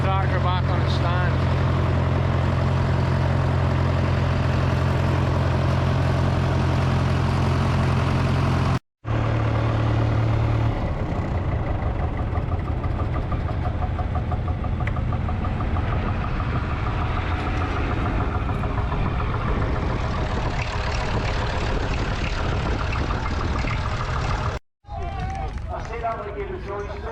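Field Marshall tractor running at a county agricultural show, its engine note steady and fairly close for the whole stretch, broken by two brief cuts, with crowd and showground noise underneath.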